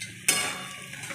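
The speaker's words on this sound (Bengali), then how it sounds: "গাজরগুলোও দিয়ে দিলাম। সব একসঙ্গে ভেজে নেব।" Carrots and cashews frying in ghee in a kadai: a steady, bright sizzle that jumps in loudness as something hits the hot fat, then hisses on evenly at close range.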